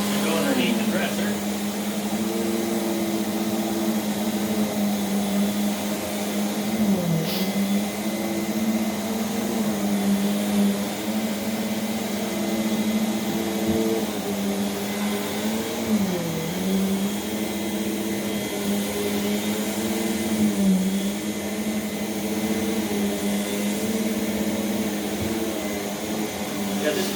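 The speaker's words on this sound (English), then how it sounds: "this power nozzle is very easy to slide around on this medium pile carpet" A refurbished 1989 Rainbow D4C vacuum cleaner runs with its power nozzle on medium pile carpet, giving a continuous loud motor drone with slight pitch wobbles as the nozzle is pushed back and forth, steady throughout.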